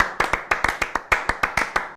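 Podcast hosts clap their hands in a round for a guest, about a dozen sharp, close claps at a steady, brisk rhythm with no talking.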